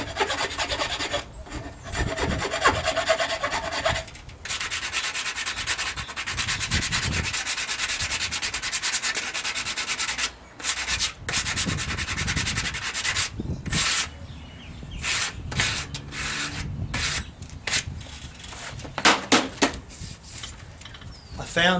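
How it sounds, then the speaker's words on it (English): Metal file worked over the wooden body of a handmade guitar, steady rasping strokes up close for most of the clip, broken by short pauses and a few sharper scrapes near the end. "I'm too scared to put a rasp on it because of what it might do to this timber, so I'll use a file"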